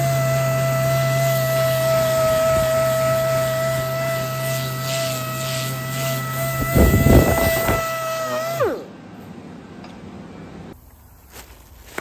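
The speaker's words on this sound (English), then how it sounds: "got this sander of Andrew's. Taking all the heavy rust off anyway." Power sander grinding heavy rust off a car fender, a steady loud whine that cuts off abruptly near the end, leaving quieter background.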